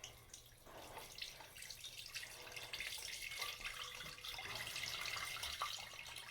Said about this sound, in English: You can see that oil starting to drain now.